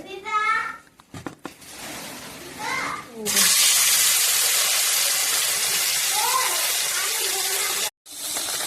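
Pieces of fish drop one by one into hot oil in a wok and set off a loud, steady hissing sizzle that lasts several seconds, with a voice and other speech heard before and over it.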